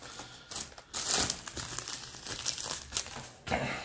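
Packaging for a Rockbros bike light is torn open and crinkled up close, with loud bursts of rustling plastic and paper scrunching in uneven waves.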